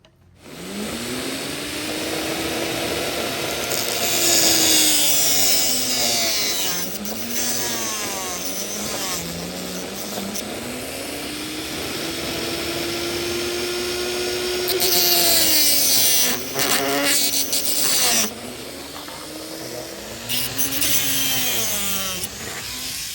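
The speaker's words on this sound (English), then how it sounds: "taking the Dremel, as you saw there, doing all our cuts" Dremel rotary tool cutting HO scale model railroad track: a loud, close high-pitched motor whine that rises and falls in pitch as it loads and unloads through repeated cuts, gritty cutting noise over it, no speech.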